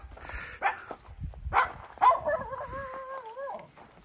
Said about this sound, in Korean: 너는 왜 거기 가서 짖고 있니?